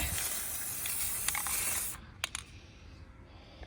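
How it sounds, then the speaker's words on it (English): A steady aerosol spray of white paint hisses for about two seconds onto an evergreen wreath, then cuts off, followed by a couple of faint clicks and rattles nearby. "This is just plain white paint. I think it's paint. And I just spray it."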